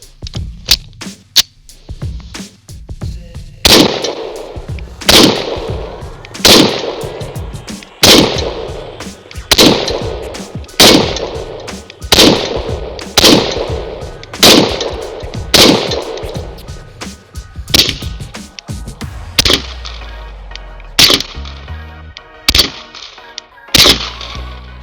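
A suppressed Beretta 92 pistol fires a long, steady string of loud, sharp shots about a second apart, each a muffled crack with a short tail, then a few more scattered shots near the end.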